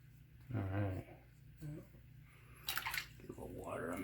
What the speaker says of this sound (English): Get a little water on the face here.